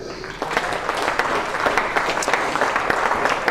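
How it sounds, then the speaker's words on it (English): Cricket spectators at a Glamorgan versus Gloucestershire County Championship match applaud steadily, a dense, even patter of clapping from a modest crowd throughout. "And another generous round of applause you'll have enjoyed this morning."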